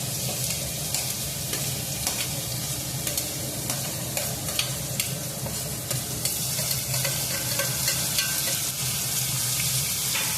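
Onion and tomato sizzle in a frying pan with curry leaves and garlic paste for a Gujarati gathiya curry, a steady, close crackling hiss holding through the whole stretch with small clinks and stirring scrapes on top.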